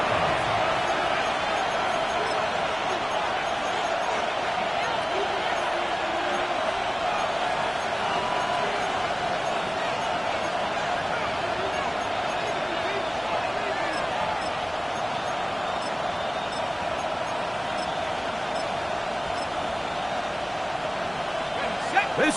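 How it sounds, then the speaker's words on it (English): A packed football stadium crowd roaring before a third-down play in a Steelers vs Patriots game, a dense continuous wash of noise filling the whole stretch with little change, while commentators talk over it. "This crowd into it now as we get to 3rd down."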